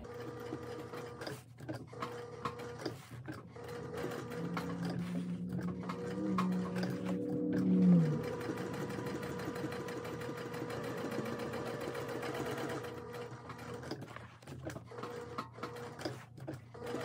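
Sewing machine stitching all the way around an overlay on a tote bag, a steady close mechanical whir running continuously with small shifts in pace.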